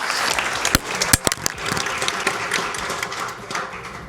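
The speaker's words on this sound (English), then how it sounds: "So big round of applause to all the elected officials in the audience." Audience applause for elected officials at a women of the year ceremony, a mix of scattered claps and sharp individual hand strikes that stays at a steady moderate level across the room without tapering.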